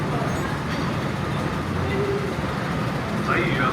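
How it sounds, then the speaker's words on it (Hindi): A metro train on Hong Kong's MTR rumbles steadily into a station, a broad continuous roar with a faint squeal of brakes near the end. "मेट्रो आ भी गई है।"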